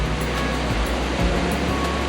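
Clean filtered water is poured into a granola mixture, giving a steady, fairly loud rushing splash that runs for about two seconds without pause.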